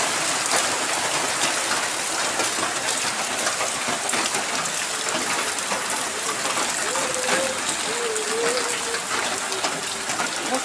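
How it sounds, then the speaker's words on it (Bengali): Heavy rain falling steadily outdoors near a kitchen, a dense, continuous wash of drops and splashes at constant loudness, with a voice briefly audible over it. "এতটা বৃষ্টি আসছে দেখুন"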